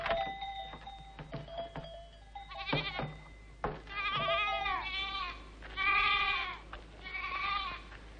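Goats wearing large bells: ringing bell tones open the scene, then several loud, wavering bleats follow in bursts from nearby animals, with no speech.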